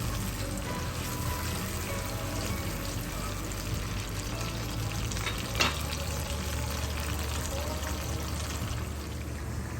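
Masala for mutton yakhni pulao fries in hot oil with a steady, close, even sizzle throughout, interrupted by one brief stir or clink about halfway through.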